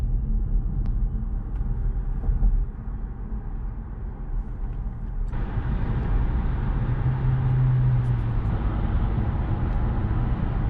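A Chevrolet Bolt EV cruises on a highway in cold weather, a steady low road and tire rumble with wind noise that swells after a few seconds and stays constant, no talk.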